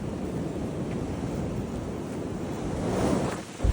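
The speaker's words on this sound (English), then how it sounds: "Pretty windy." Strong wind roars and buffets steadily across the microphone on a steep hillside, swelling into a louder gust near the end.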